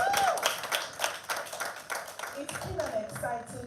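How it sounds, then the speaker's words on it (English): An audience at an International Women's Day evening event claps for the speakers, a dense run of quick hand claps heard closely, with a voice talking over the applause. "Please, can we give all the speakers a round of applause?"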